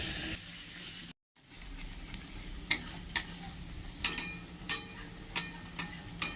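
Spice masala with water stir-fried in a wok, a low simmering sizzle broken by a brief gap, then repeated sharp scraping spatula strokes at a steady rhythm, close and alone.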